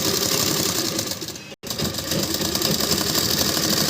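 Electric sewing machine stitching long suit fabric pieces, front and back panels joined, running as a steady, loud continuous whir with one brief pause in the middle.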